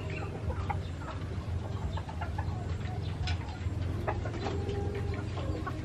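Chickens cluck and chatter close by on a rural farm, a scattered run of short, overlapping clucks over a steady outdoor background, with no talking.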